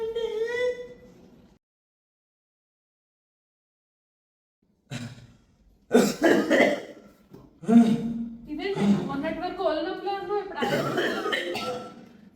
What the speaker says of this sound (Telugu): చాలా దగ్గు వస్తున్నది.